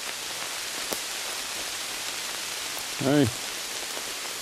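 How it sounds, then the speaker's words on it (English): Rain falls steadily in woodland, making a dense even hiss of drops on leaves and ground, while a single word is spoken briefly partway through. "It's starting to rain a little harder."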